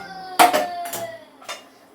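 A metal pan is set down on a lit stove while moong dal payasam is being made, giving a few sharp metallic clanks with brief ringing, close and fairly loud in a quiet kitchen.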